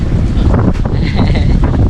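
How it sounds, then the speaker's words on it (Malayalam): Strong wind buffets the microphone outdoors near a rock where people stop to eat during an auto-rickshaw trip, a loud steady roar throughout with no clear voices. "നല്ല കാറ്റ്."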